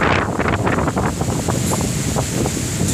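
Strong wind buffets the microphone in heavy gusts aboard a ship off Grand Cayman during heavy rain, with the wash of waves underneath, loud and continuous.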